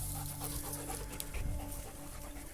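Dogs pant steadily and rapidly close by, with a faint whimper partway through and no talk.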